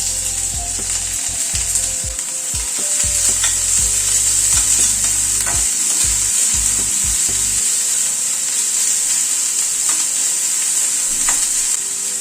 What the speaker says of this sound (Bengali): পেঁয়াজটাকে প্রথমে একটু হালকা করে ভেজে নেব।